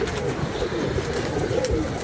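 Several pigeons coo in a steady, overlapping murmur, close and fairly loud, with soft rolling calls running the whole time and no voices.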